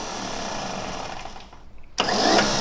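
A GAZ-M1 car engine, unused for decades, runs roughly, dips and sputters briefly, then bursts back into a loud, steady running noise close by.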